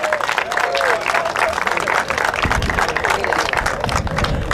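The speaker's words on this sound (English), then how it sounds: "big round of applause for them." Audience applause at a cricket tournament trophy presentation, with steady clapping and crowd noise filling the whole stretch, loud and close, and some voices mixed in.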